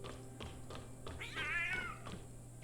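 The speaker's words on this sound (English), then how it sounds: "I don't see the cat." A cat meows once in the Tower of Fantasy video game, a short rising and falling call standing out over steady low background game ambience in a metro tunnel setting.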